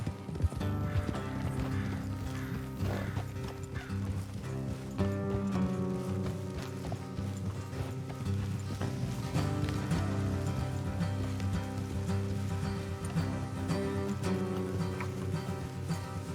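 Steady hoof clip-clop from horses on the move in the video game Red Dead Redemption II, continuous and fairly close, mixed with a musical backdrop throughout.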